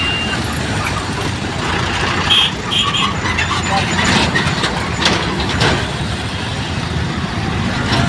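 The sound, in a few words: road traffic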